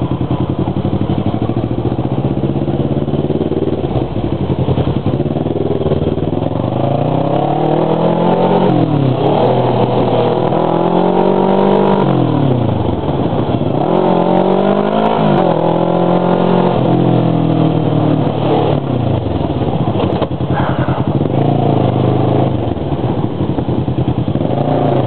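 Dense motorcycle and car traffic on a Taipei street, with scooter engines revving, rising and falling continuously nearby, no voices.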